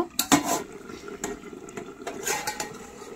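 A spatula scrapes and knocks through a pot of cooking potato and carrot curry, a few irregular metallic clinks and scrapes at close range with no voices.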